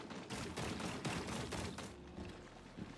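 Rapid automatic gunfire from a firefight in Rainbow Six Extraction, played on an Xbox Series X, with dense bursts that rattle on steadily for about two seconds, then trail into fainter shots under a game ambience.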